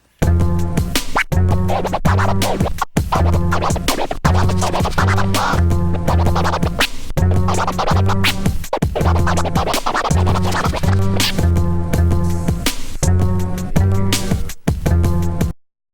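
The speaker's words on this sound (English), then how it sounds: "Let's hear some mules going buck wild on the beat." Rhythmic turntable mule scratches ride over a steady looping beat, quick back-and-forth strokes locked to the rhythm, loud and continuous.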